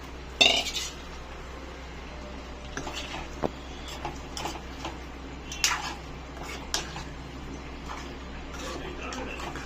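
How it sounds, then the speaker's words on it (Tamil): Half a kilo of chicken being mixed with masala in a bowl for Chettinad chicken, quiet wet squelching under scattered clinks and taps of a spoon against the dish. "கறி நம்ம சேர்த்த மசாலா எல்லாம் ஒன்றோட ஒன்று நல்லா மிக்ஸ் ஆகணும்."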